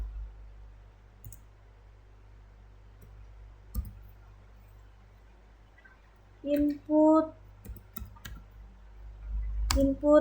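Computer keyboard keys are pressed one at a time during programming, giving sparse, sharp, close clicks spread over several seconds, with a person speaking briefly in between.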